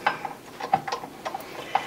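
A wire whisk is fitted onto a stand mixer, giving a few short metallic clicks and light clatters close by, with no talking.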